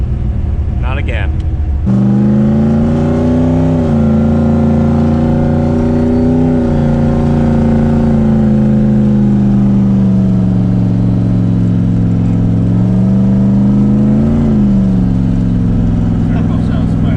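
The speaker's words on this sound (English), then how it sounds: "Turbo sounds funny, eh?" A turbocharged 6.0 LS V8 swapped into a Mustang idles and revs in a loud, steady droning tone with slow rises and falls in pitch, heard close up throughout.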